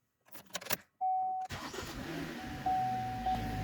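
Engine of a 2011 Cadillac CTS with a misfire and oil pressure sensor fault cranking and catching after a few clicks and a chime, then settling into a steady idle up close, with warning chimes sounding over it.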